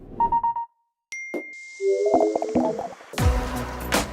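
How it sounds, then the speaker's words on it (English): Remastered Mac system sounds from macOS Big Sur: a quick series of clean alert chimes, dings and soft tonal blips, bright and close, ending in a brief burst of rustling effects, with no talking. "We've also created a new suite of sounds that are familiar to the Mac, but remastered and more refined."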